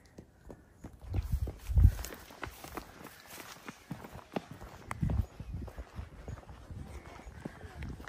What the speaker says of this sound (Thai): แวะดูม้ากัน